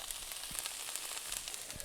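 Faint, steady sizzling hiss of chicken fried rice frying in a pan, with small crackles and pops.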